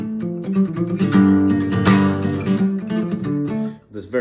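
Palm-muted acoustic guitar strummed through the chord progression of Dave Matthews' The Stone, with a deep, dark, chunky tone; a steady run of damped strums, close and fairly loud, with no voices.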